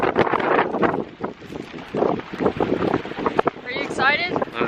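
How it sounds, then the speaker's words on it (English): Wind gusts buffet the microphone outdoors at a ranch, a rough, rumbling broadband roar that rises and falls under a person talking nearby. "It's a little bit windy out."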